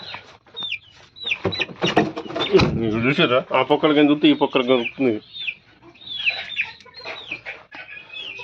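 Newly bought chickens from Jagtial cluck and call inside a shed, close by, with repeated short cackles and higher squawks scattered throughout, while someone talks over them in the middle.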